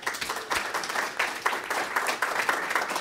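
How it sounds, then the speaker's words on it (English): Audience applause welcoming comedian Demetri Martin into a room, a steady dense wash of clapping hands throughout at moderate loudness, with no voices over it. "So a round of applause and welcome into the room."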